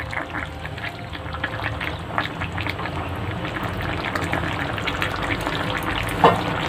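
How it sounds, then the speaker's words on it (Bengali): Fried fish gently mixed with potato and cauliflower in a pan of simmering gravy, a continuous soft sizzle with light stirring and scraping and one sharper clink near the end. "এরপর ভেজে রাখা মাছগুলো এক এক করে দিয়ে দেব আর হালকা হাতে এইভাবে একটু মিশিয়ে নেব"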